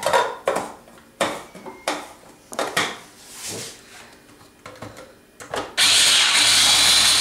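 An electric mixer starts up loudly and blends tapenade with oil from sun-dried tomatoes, a dense continuous whir. It follows several sharp clinks and knocks of kitchen utensils and containers close by.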